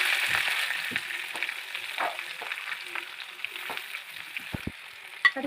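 Sliced onions with garam masala and curry leaves fry steadily in hot oil for a chicken stew, a soft continuous sizzle broken by scattered stirring scrapes and light clicks.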